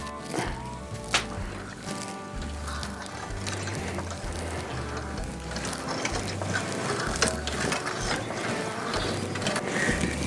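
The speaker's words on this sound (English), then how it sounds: "I can hear there's air still gurgling on it" A hydraulic floor jack being pumped up close, with rhythmic mechanical clunks and ratcheting as air gurgles inside, against a steady noisy background.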